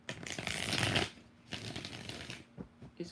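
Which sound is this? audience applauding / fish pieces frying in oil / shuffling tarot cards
shuffling tarot cards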